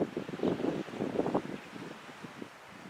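Gusty wind blows across the mic on a mountain lookout above Prescott, Arizona, near Granite Dells, a loud rushing buffet that swells and fades for three seconds with no voices.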